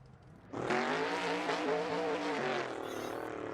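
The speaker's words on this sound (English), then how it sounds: "He's obviously doing burnouts" Racing car in Assetto Corsa doing burnouts after the finish of a touring car race at Lakeside: a loud, sustained engine wail with shifting pitch holds steady for about three seconds, with a faint squeal-like hiss near the end.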